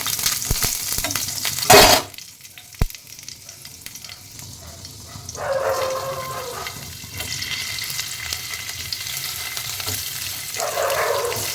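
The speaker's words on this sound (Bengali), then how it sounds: "এবার আমি পনিরগুলোকে ভেজে নেব।" Paneer fries on a tawa in oil and butter, giving a steady close sizzle that swells midway, with a sharp clatter of handling near the start and no talking.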